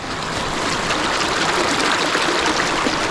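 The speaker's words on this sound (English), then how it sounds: "Like the water is in here. It's back flowing" Floodwater flowing back into a creek after a flood, a steady broadband rushing wash like a fast stream, loud and continuous throughout with no talk.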